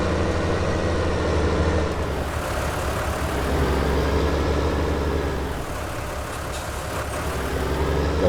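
A tractor engine runs in Farm Simulator 19 while its loader bucket carries a heavy load, a steady, loud mechanical drone with a constant low rumble that holds through the whole stretch.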